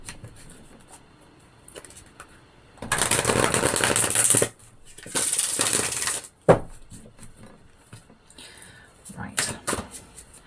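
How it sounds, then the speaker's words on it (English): Tarot cards from a standard Rider-Waite deck being shuffled by hand, two loud crisp riffling bursts with softer shuffling and card handling around them. "Let's give these a good shuffle."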